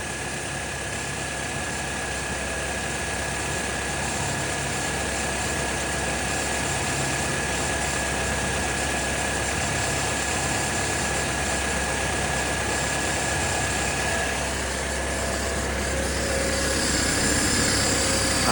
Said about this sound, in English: My power steering pump's leaking a good bit, and you can hear it whining right now.